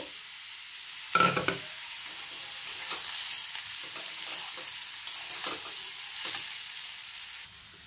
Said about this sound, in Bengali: গাজর পেঁপে ডাল একসঙ্গে ফ্রাই করে নিয়েছি